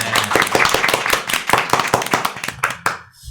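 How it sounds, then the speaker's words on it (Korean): Studio audience claps steadily for a four-member interfaith vocal group, a brisk run of sharp hand claps that tapers off and stops near the end. "박수 드리겠습니다."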